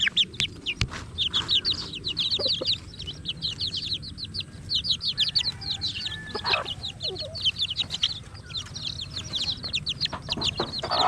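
Native chickens and a large rooster cluck and chirp steadily close by outdoors on a Filipino backyard farm where chicks have hatched, with dense overlapping calls throughout and no talking.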